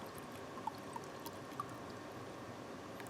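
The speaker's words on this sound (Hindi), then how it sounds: "ये साधारण बोतल को मैं खोलता हूँ, ठीक है, मैं खोलता हूँ और इससे मैं एक गिलास पानी जो है पहले ही निकाल लेता हूँ" Water pours from an ordinary bottle into a drinking glass, a faint, steady trickle with a few soft clinks, quiet and close with no talk.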